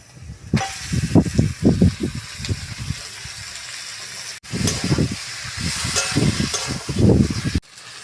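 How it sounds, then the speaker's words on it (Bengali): Marinated chicken hits hot spices in a pan with a loud, bursting sizzle and hiss, rising in two long surges with a brief break between them. "এবার বন্ধুরা, ম্যারিনেট করে চিকেনটা এবার আমি মশলার মধ্যে ঢেলে দেব।"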